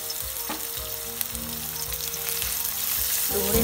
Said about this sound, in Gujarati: ડુંગળી ઉમેરી દઈશું.